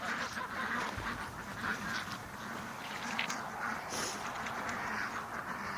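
Ducks quack faintly and continuously in the distance outdoors, a soft layered flock murmur over steady background noise.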